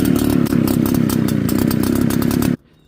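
An HTK 63cc two-stroke leaf blower engine catches and runs with a loud, rapid, buzzing chatter, briefly stumbling near the start and then holding steady before cutting off abruptly into near silence, with no voices.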